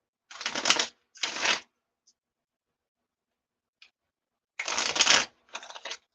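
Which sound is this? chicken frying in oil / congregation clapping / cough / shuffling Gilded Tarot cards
shuffling Gilded Tarot cards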